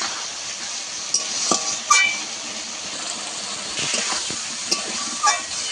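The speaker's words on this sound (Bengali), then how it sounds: "কিছুক্ষণ আমি ভালো করে কষিয়ে নেব যতক্ষণ না মশলা থেকে তেল ছাড়ে।" Spice paste for a pomfret fish curry with potatoes fries in oil in a pan, a soft continuous sizzle under occasional scrapes and clinks of a stirring spoon against the pan.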